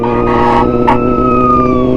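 A loud wailing police or fire truck siren rises and falls in pitch, steady and continuous over a 2021 Honda CBR1000RR-R Fireblade SP motorcycle engine's low hum, close by.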